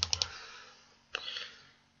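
Computer mouse clicks while launching software: a quick burst of three sharp clicks, then a short pause and another click with a faint rattle, close and crisp in a quiet room.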